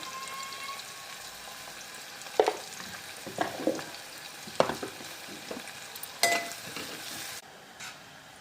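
Chopped onions frying in a pan for a greens and egg curry, a soft continuous sizzle with several louder bursts of stirring and spatula scraping, no voices.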